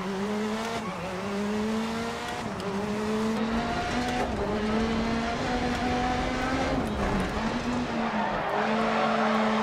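Rally car engine in DiRT Rally revving hard and steady, its pitch rising and dipping through gear changes while tyres skid and scrub beneath, loud and continuous with no one talking.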